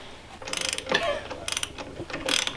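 A puller works a pulley off an engine on an IS300 drift project car, giving several close, quick ratcheting clicks in short bursts.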